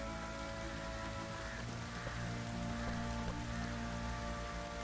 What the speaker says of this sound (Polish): Zanosi się na deszcz.